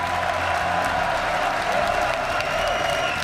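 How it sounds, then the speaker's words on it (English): A French crowd at the League of Legends World Championship applauds steadily and loudly throughout, a dense, continuous wash of clapping and crowd noise filling the arena. "the crowd has just been so loud all weekend long"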